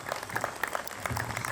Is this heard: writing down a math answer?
no